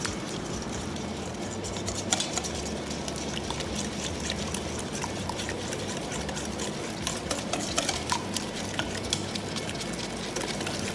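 Pecan pie dough ingredients are mixed with a steady mechanical whir and a constant low hum, with soft scraping and sloshing on top, unbroken for the whole stretch.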